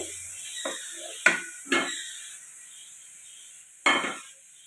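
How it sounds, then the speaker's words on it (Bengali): A spice masala for mutton curry is stirred in a pan, giving a few separate scraping strokes with soft sizzling under them, close and moderate, with quiet gaps between the strokes and no talking. "এটাকে দিয়ে আমি এবার আগে ভালো করে নাড়বো এবার মশলাটাকে"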